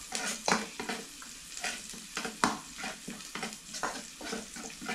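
Onion and garlic sautéing in a pan for spaghetti sauce, a steady sizzle broken by repeated scraping, stirring strokes at a close, moderate level.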